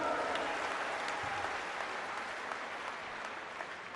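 A large crowd at a national political conference applauds a regional delegation, a faint, distant, continuous wash of clapping sustained evenly throughout.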